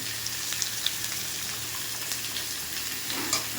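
Curry with turmeric and spices fries in a pan with a soft, even sizzle and a few faint clinks and stirring sounds, close and quiet, with no voices.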